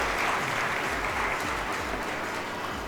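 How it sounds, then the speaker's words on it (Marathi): Audience applause at the inauguration ceremony of an agricultural college event, a continuous dense clapping from a crowd that stays even throughout. "आपल्या वयाच्या मुलांनी जोरदार टाळ्या वाजवल्या पाहिजे"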